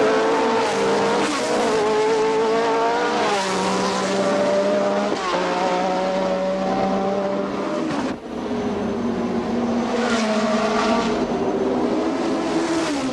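Racing cars thunder around the 1969 Monaco Grand Prix street circuit, their loud, continuous engine howl rising and falling in pitch as they shift through corners, with no voices over it.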